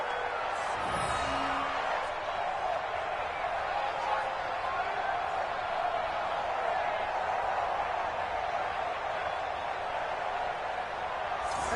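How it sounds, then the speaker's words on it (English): Steady, loud crowd roar fills the Superdome during an NFL football game between the Cowboys and Saints, a continuous wash of noise under a play-by-play announcer's commentary. "The crowd here in the Dome making things difficult."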